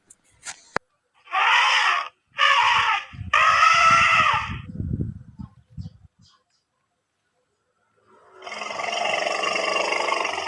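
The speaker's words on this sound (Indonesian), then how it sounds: "bunyi gajah." An elephant sound effect: two short loud trumpeting blasts, then a longer roaring call fading into rumble, a pause, and another sustained trumpet-like blare.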